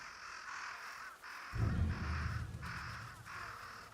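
A crow caws repeatedly in the video game Ghost of Yotei, rhythmic harsh calls about every half second, with a low rumbling ambience rising partway through.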